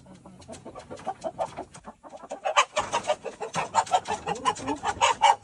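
Chickens cluck repeatedly in an irregular, busy rhythm, close and fairly loud, with a brief quieter gap before the clucking picks up again and continues steadily.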